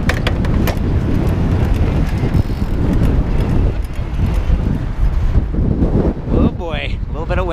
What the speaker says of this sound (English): little bit of wind